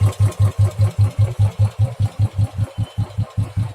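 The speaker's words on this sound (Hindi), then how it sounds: "टैपिड नॉइज तो रॉयल एनफील्ड की कॉमन सी बात है" A Royal Enfield motorcycle engine idles with tappet noise. Close, loud, evenly spaced thumps come about five times a second, with a faint ticking over the top and no talk.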